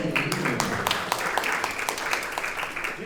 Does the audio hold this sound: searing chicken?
no